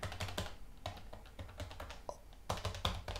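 Typing on the keyboard of a Toshiba Satellite 110CS laptop: clusters of close, crisp key clicks in uneven bursts, with a brief pause mid-way before a denser flurry, heard alone.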